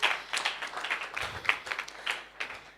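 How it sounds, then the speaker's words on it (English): Small conference audience giving a brief round of applause as presenters set up, sparse, uneven claps from a few people, fairly faint and short. "Final round of applause as they set up."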